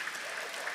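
Brief burst of continuous audience clapping at a school annual dinner, a steady wash of many hands with no pauses.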